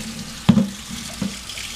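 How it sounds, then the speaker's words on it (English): Cold tap water runs steadily over a roasted red pepper as its skin is rinsed off, with two soft knocks of handling in the sink. "you're just going to rinse the skin off under cold water"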